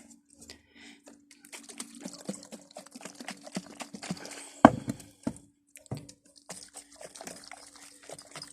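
Closed jars holding soil and water are shaken, giving sloshing, rattling bursts with one sharp knock partway through, close and moderately loud.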